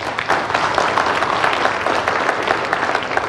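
A studio audience at the Indonesia Lawyers Club talk show claps steadily for a singer, a dense, loud, continuous applause with no pauses.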